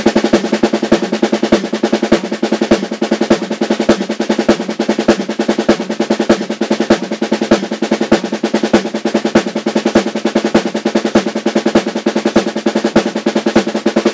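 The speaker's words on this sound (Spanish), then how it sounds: "El metrónomo lo voy a poner a dos cuartos y esto suena así." A drummer plays a fast triplet exercise against a metronome set to two-four time, with dense, even drum strokes repeating steadily and loudly throughout and no talking.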